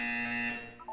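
A Portal 2 test-chamber buzzer sounds as a single steady electronic tone lasting under a second, clear and fairly close, then cutting off with a short blip.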